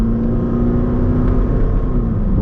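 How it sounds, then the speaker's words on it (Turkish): A 2.8 CRD four-cylinder diesel in a Dodge Nitro 4x4 is held at full throttle, heard from inside the cabin as a loud, steady, low droning hum with a constant engine tone and no speech. "İçeri yüksek derecede bir motor sesi geliyor. 4 silindirli dizel motor."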